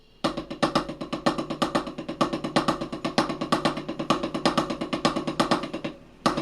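A drum kit plays a fast, continuous triple paradiddle with accents on the downbeat and upbeat, dense rapid strokes forming a steady driving pattern, loud and close, ending with a brief pause and one final hit.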